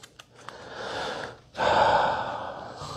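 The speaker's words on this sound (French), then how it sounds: "je t'invite à respirer un moment," A slow, deep breath during a calm guided pause: a long soft inhale, a short break, then a fuller, louder exhale, close to the microphone with no speech.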